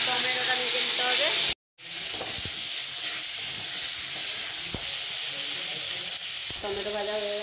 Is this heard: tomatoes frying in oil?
yes